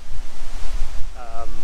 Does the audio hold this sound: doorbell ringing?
no